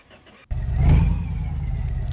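An unhealthy off-road vehicle's engine in My Garage catches after a hard start, jumping into a loud, steady low rumble with a brief rev swell near the start, close and alone.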